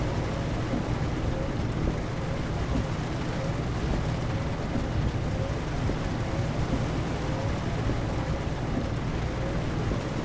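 Steady rain and a low thunder rumble in Euro Truck Simulator 2 wash continuously over a truck's engine drone, a dense, even hiss with no clear breaks and no one talking.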